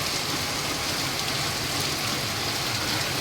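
Torrential rain, two days into a continuous downpour, drums steadily around a house, a constant dense patter at a moderate distance over a low rumble, with no one speaking.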